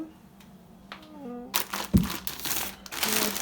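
A plastic humanitarian aid food package crinkles and rustles loudly up close after a brief quiet moment, with a short bump of handling partway through.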